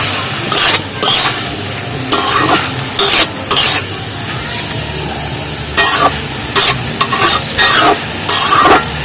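Greens being stirred and fried in a pan with fried eggplant and potato mixed in, for a wedding-style dish; repeated loud scraping stir strokes come in bursts over a steady sizzle, with no talking.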